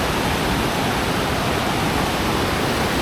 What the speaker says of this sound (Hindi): शोर अब इधर बहुत ज़्यादा है पानी का, तो ये बड़ा ज़बरदस्त ये है दतांदला वाटरफॉल